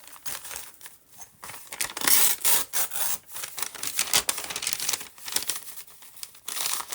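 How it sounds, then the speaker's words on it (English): Several sheets of paper folded by hand for a junk journal, heard as close, crisp crinkling and rustling in repeated bursts, loud and alone, with brief pauses between folds. "So I'm just going to fold them like this,"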